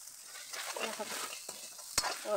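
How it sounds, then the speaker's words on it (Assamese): Spice masala with red chili powder sizzles in a pan for a jackfruit curry, a steady crackling fry stirred with scraping strokes and a sharp utensil knock near the end. "ধুনীয়াকৈ মই এতিয়া ভাজি ল'ম মছলাখিনি শুকাই ল'ম"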